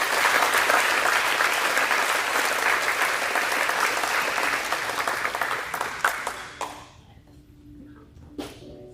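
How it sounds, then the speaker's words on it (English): Sustained applause from a banquet crowd honoring seniors at an athletics awards dinner, steady and full for about six seconds before thinning out to a few scattered claps. "So let's give them a round of applause."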